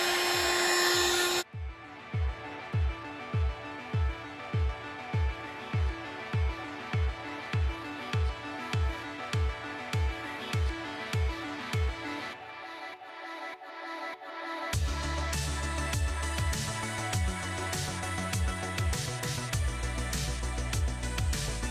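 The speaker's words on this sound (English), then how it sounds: "I'm going to take my heat gun and just kind of warm it up a little so that the adhesive sticks a little bit better" A heat gun blows a steady, loud whoosh of hot air to warm the adhesive on a Mugen ventilated visor. Evenly spaced low thumps run beneath the blast for a while before it settles into a fuller, continuous roar.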